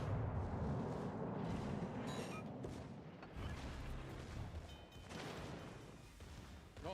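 Heavy booming rumble from a torpedo battleship battle in World of Warships Legends, a sustained roar of blasts and naval gunfire rolling on throughout, with no clear single explosion standing out.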